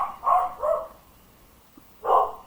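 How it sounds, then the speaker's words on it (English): A dog barks inside a house, two quick close barks followed by a pause, then a third bark. "I'm going to go see what my dog's barking about"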